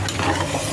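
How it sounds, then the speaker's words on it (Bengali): Hot fried garlic and ginger tempering poured into a pot of khichdi made with rice and two kinds of dal, giving a short, loud burst of sizzling with a faint stirring scrape, no talk. "এখন আমি এটা খিচুড়িতে ঢেলে দিব"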